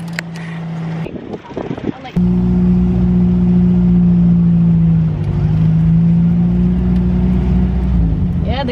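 Steady, loud engine drone of a car being driven a short distance up a road, rising in and holding a low hum after a brief burst of door and handling noises.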